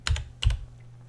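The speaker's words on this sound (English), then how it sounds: "I start typing in my mulch." Two short bursts of typing on a computer keyboard, keys clicking close and clear in a quiet room, entering a mulch item into landscaping estimating software.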